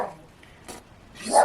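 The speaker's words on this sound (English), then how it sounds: "Henry's just having a little bark" Henry the dog gives a short bark, a brief burst near the end following a faint earlier yelp, heard indoors at moderate distance.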